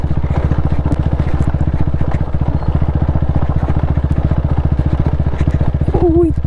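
A vehicle engine chugs steadily along a hill road near Kantara filming locations in the Karnataka hills, a close, even throbbing pulse that runs the whole time, with a brief rising tone near the end.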